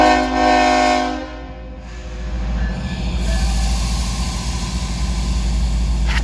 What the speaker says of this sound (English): He gives 2 blasts of the whistle, meaning that he's moving forward.